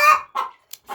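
Hen on a farm clucking in a few short bursts, loud and close, with brief pauses between calls and no talking.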